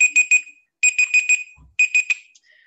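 A classroom timer alarm goes off in bursts of rapid high-pitched beeps, three groups separated by short pauses, loud and close.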